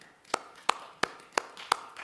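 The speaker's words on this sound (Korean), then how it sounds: "우리 박수 한번 할까요?" A church congregation at an early-morning Korean worship service claps together in unison, six sharp, evenly spaced claps in a quick steady rhythm, with no voices over them.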